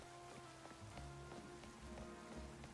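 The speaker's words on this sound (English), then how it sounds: "while we wait for the rain to stop" Steady rain falling in the Pokémon Legends Z-A video game, a soft continuous patter of drops on surfaces, even and unbroken, with no voices over it.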